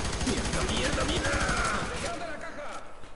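Rapid automatic gunfire in the first-person shooter game FEAR 3, dense bursts of shots thick for two seconds then thinning into scattered pops, with a player talking over it.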